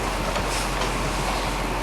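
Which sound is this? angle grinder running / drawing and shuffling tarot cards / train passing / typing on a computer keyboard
train passing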